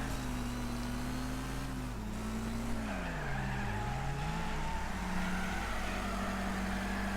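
Engine roar and tire squeal as a car drifts in the Wreckfest racing game, the Hammerhead RS, a steady loud engine drone with pitch dipping and climbing as the tires slide.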